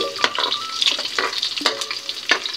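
Onion and garlic fry in a hot pan for tokwa't baboy, a steady loud sizzle broken by repeated scraping stirs, close up with no talking.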